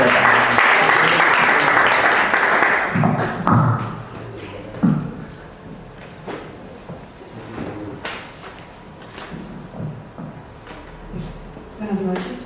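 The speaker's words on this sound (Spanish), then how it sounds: "la recibimos con un fuerte aplauso" Audience at a doctoral literature colloquium applauds loudly for a few seconds, then the clapping fades into scattered thumps, shuffling and movement as someone speaks.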